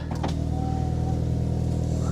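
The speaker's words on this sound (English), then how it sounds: "Windows work, everything works." Electric power window motor whirring steadily in an old Volkswagen Golf GTI that had sat abandoned for six years, a close, continuous hum over the low idle drone of the car.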